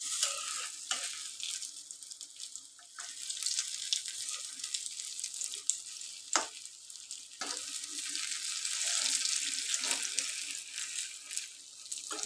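Dahi vada lentil fritters frying in hot oil, a steady bright sizzle throughout with occasional louder pops and spatters, close and continuous without talk.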